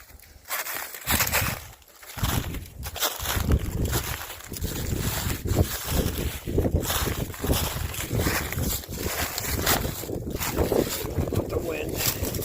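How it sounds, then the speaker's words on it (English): Strong wind buffeting outdoors beside a river in a ruined town strewn with broken bricks, a loud continuous gusty roar with rumbling microphone noise and a voice talking over it. "The wind."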